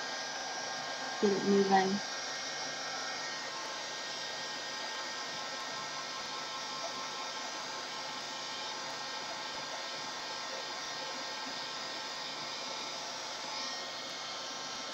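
A hair dryer blows a steady, even whoosh while drying paint on a floral canvas, running continuously for the whole stretch, with a brief spoken voice near the start.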